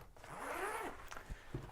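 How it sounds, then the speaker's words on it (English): Sturdy zippers on a clamshell backpack being pulled open in one long close rasping sweep, followed by a couple of soft handling thumps. "these zippers, they're nice and sturdy."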